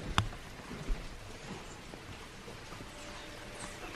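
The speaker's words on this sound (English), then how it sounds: "It's raining, you guys. It's pouring rain." Heavy rain pours steadily outside, a dense even hiss close by with a couple of soft thumps early on.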